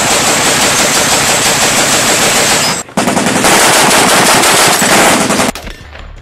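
Loud, dense automatic gunfire from a played video: sustained rapid machine-gun bursts with a brief break near the middle, then a resumed stream that cuts off near the end.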